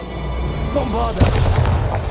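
A Bombarda spell explodes in the video game Hogwarts Legacy, one sharp booming blast with a rumbling tail that follows a brief vocal cry amid the game's background sound.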